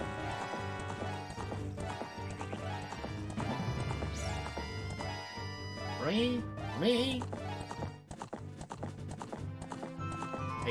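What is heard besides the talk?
horse galloping after being summoned in Zelda: Ocarina of Time video game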